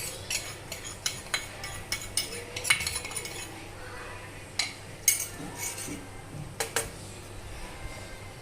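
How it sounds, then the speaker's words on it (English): All-purpose flour being mixed into melted butter in a pan, heard as repeated metallic clinks and scrapes of a spoon against the vessel at an uneven pace. "Now I will add the all-purpose flour or maida, and we will mix it."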